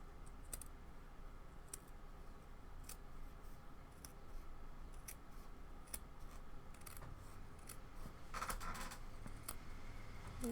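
Small scissors trim needle-felted wool in a quiet room, giving a long run of faint, irregular snips and light clicks at close range, with one busier burst of cutting near the end.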